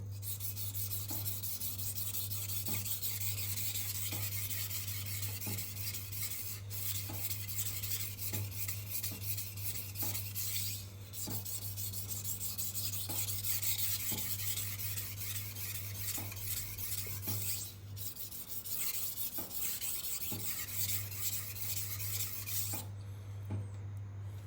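A knife is sharpened with continuous rasping, rubbing strokes in a steady repeated rhythm, close and fairly loud over a constant low hum, with no one speaking.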